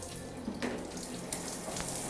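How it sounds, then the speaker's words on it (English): A handheld shower spray at a tub in an old home runs water in a steady, soft hiss, close and alone. "It actually has a spout, a spray, or a handheld I should say, and we want to see that that works."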